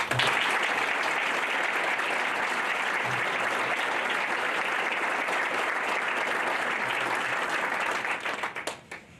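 Audience at the 2014 Windsor Shad Derby Gala applauding volunteer sponsors and donors, a dense, sustained round of clapping from a large crowd that holds steady for about eight seconds, then tapers off.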